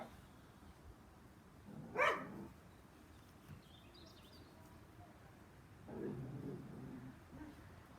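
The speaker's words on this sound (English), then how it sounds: "oh, my dog's starting to go mad." A dog barks a few times indoors, each short bark muffled and moderately distant against a quiet room background, with a longer low bark-like outburst later.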